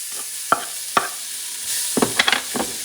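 Sliced yellow onion sautéing with beef shanks over medium-high heat, a quiet sizzle punctuated by several distinct clacks and scrapes of a utensil stirring in the pan.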